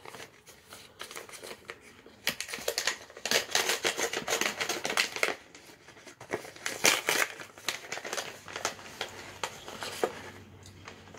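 Paper and plastic packaging from a mailed package of stickers and buttons being torn and opened, a close, busy stretch of crinkling, rustling and tapping that comes in bursts and keeps going throughout with no speech.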